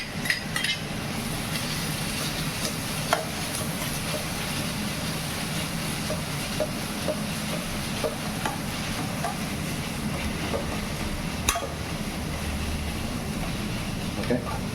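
Shallots and onions sizzling in a pan for mutton curry, a steady close frying hiss with occasional scrapes and clicks of stirring, no talk.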